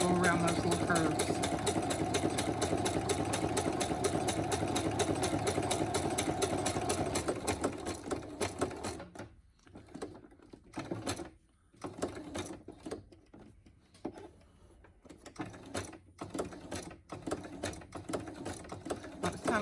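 A sewing machine stitching fabric slowly around a curve, its fast even needle whirr running steadily at first, then broken into short stop-start bursts of single stitches as it inches along.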